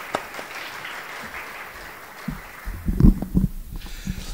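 Applause for a guest speaker at an Alternative African Futures talk, heard as a steady wash of clapping at moderate level. Near the end, low thumps and handling noise from the front of the room come through.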